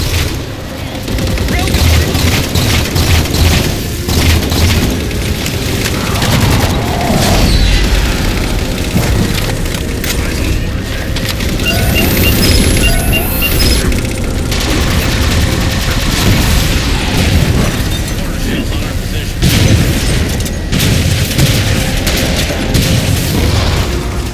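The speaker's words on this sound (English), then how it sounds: "Target those phantoms for the railgun to shoot down." A railgun fires at Phantom dropships in Halo 4 among heavy, continuous battle noise: loud booms, bursts of gunfire and explosions, with voices talking over the combat.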